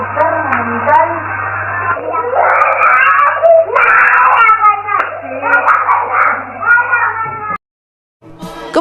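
A young child cries and screams loudly and continuously, wailing in rising and falling bursts, with adult voices and a low hum mixed in, ending abruptly.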